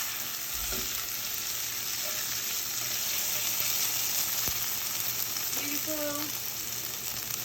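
Sofrito sizzles and fries steadily in a pan as a base for rice, a continuous close crackling hiss with a brief stir partway and a short spoken word over it.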